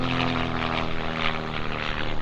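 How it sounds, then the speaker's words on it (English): A propeller airplane drones overhead, a steady, throbbing engine hum with a pulsing buzz, fairly loud and continuous throughout, without speech. "Oh, plane, the plane, the plane."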